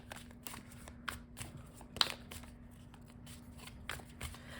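Tarot cards shuffled in repeated quick riffles and soft flicks, close and fairly quiet, with a low steady hum underneath.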